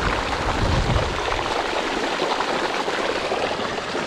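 Water drains strongly through a bean field, a steady, close rushing flow that keeps going without a break.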